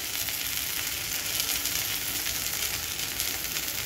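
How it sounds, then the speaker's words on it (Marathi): Sabudana thalipeeth cooking in ghee on a griddle over a medium flame, giving a continuous close, even sizzle and crackle with no voices. "गॅसची फ्लेम तुम्हाला इथं मीडियम ठेवायची आहे आणि मध्ये असं थोडंसं तूप टाका."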